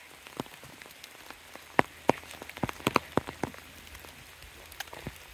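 Scattered raindrops tap on a hard surface nearby in the woods, irregular and sparse, with quiet background hiss and no talking.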